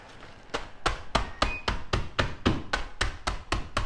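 Marie biscuits crushed by hand with a tool in place of a broken mixer, giving about a dozen steady, evenly spaced pounding knocks close up with no voices.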